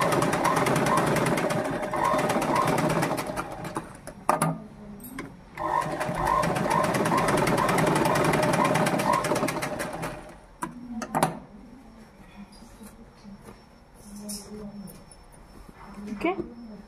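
A sewing machine runs in steady bursts while stitching a uniform shirt, with long continuous runs broken by short pauses, loud and close, mixed with background noise and occasional voices.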